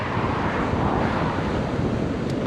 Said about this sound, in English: those waves are pumping